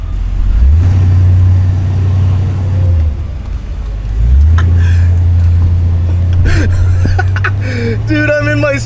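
A 1973 Camaro engine revs up twice while driving, each loud, deep rise holding then dropping, close and powerful, with brief voices and clatter near the end.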